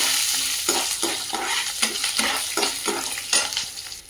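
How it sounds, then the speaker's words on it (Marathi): Green chilies sizzle in a hot pan of lemon rice as a spoon stirs them, giving a rhythmic run of scraping strokes about every half second over a soft, constant frying hiss. "त्यातच आपण आता मिरच्या ॲड करूया."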